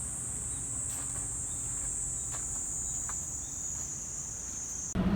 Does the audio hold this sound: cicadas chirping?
yes